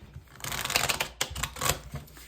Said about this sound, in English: All right, let's shuffle one more time.